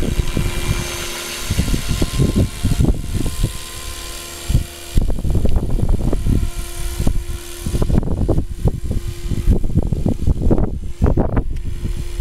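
Loud, close helicopter noise as it approaches, with a deep rhythmic rotor thumping and steady engine drone, pulsing throughout without speech.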